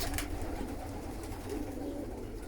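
A young pigeon, a squab in a breeding loft, gives soft low cooing murmurs at close range, faint and brief against a quiet background.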